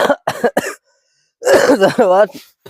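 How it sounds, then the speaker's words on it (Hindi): A person coughs three times in quick succession, then speaks briefly in a close, clear voice. "बड़ी ठंडी बरत यार खांसी आवे लगी"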